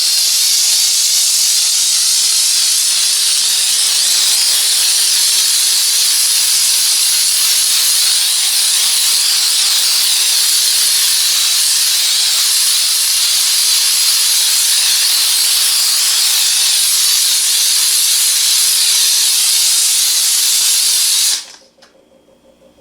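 A Grobell steam cleaner blasts steam onto a stove top: a loud, steady, close hiss runs unbroken for about 21 seconds, then cuts off abruptly into near silence.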